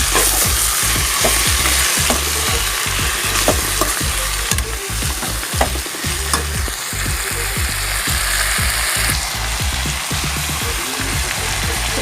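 Chicken and onions fry loudly in a pan with salt, a steady dense sizzle broken by rhythmic scraping strokes of a stirring spoon throughout.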